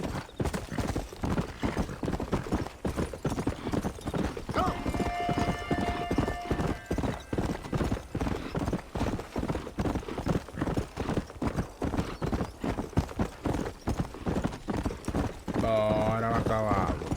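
A horse gallops across open country in the Western video game Red Dead Redemption, its hooves pounding in a steady, close rhythm, and a neigh breaks out near the end.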